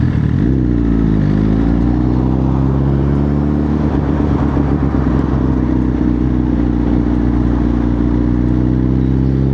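Suzuki motorcycle engine in city traffic, a loud, steady mid-pitched drone whose pitch dips early on and then holds, running continuously with no talking.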